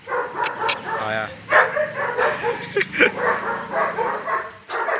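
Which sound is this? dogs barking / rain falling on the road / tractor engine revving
dogs barking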